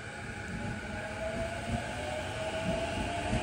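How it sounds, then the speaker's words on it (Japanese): A Joban Line local train bound for Toride rumbles steadily nearby with a low continuous roar and faint tonal whine, departing from the neighbouring platform. "隣のホームからは各駅停車の取手行きが出発していきました"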